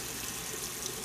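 Cold water runs steadily from a tap, a continuous broadband hiss that holds at an even, fairly quiet level with no voices.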